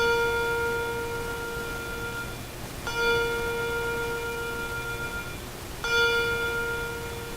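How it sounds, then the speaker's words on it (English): A memorial bell tolls at a ceremony in Tuscaloosa honouring tornado victims, with three ringing strikes about three seconds apart, each leaving a sustained, humming tone that carries into the next, and no voices. "a moment of silence was accompanied by the ominous sound of a bell ringing 53 times"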